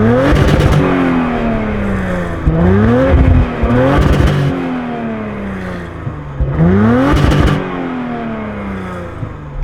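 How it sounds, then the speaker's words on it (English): Audi RS4 bi-turbo V6 with RS sports exhaust revving hard in repeated bursts, the engine note rising and falling through several sharp climbs over a steady loud drone, with no talking. "So this has the RS Sports exhaust, and I'm definitely not convinced on the sound."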